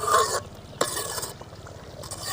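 A pot of aloe vera tamarind curry bubbles and simmers, with a soft steady sizzle and a few louder pops rising and falling, faint and close.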